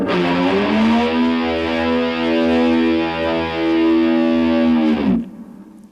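A single high electric guitar harmonic rings out, heavily distorted and wavering in volume, sustaining for about five seconds before cutting off.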